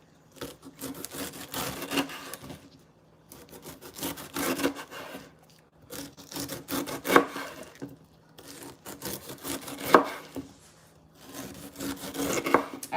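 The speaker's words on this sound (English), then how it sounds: "If you can see me chopping this pineapple" A knife saws and chops through a firm pineapple in bursts of rasping, scraping strokes, with brief pauses between cuts, close up.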